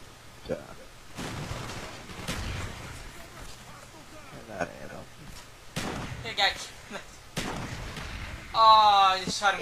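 Gunshots and sharp impacts in a multiplayer shooter, several loud bangs scattered among steady game noise while players talk over them.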